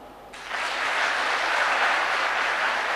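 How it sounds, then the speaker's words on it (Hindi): An audience at a corporate event for a photography business bursts into applause, a dense steady wash of clapping that starts suddenly and holds loud and even without talk. "एक बार ग्राउंड ब्रेकिंग तालियां फॉर पारस"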